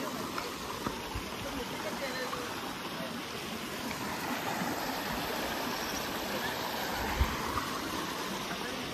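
River water rushes steadily at a crossing that feeds a dam, a continuous broadband roar close by with one brief thump partway through.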